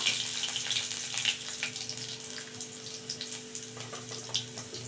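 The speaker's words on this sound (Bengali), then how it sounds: "এখানে আমি গোটা রসুন অ্যাড করে দেবো" Whole garlic cloves fry in hot oil, giving a steady close crackling sizzle with scattered pops throughout and no talking.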